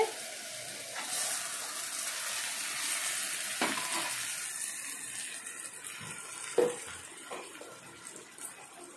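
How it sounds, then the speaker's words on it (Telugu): Fish pieces go into hot oil for a fish curry and set off a loud, steady sizzle and spatter close by, with a few sharper pops and stirring scrapes along the way. "తర్వాత చేపలు వేస్తున్నానండి"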